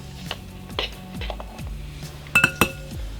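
Metal utensil clinking and scraping in a bowl while oil, salt, paprika and cayenne are mixed for spicy peanut seasoning; close, sparse taps with a short cluster of bright clinks near the end, no talking.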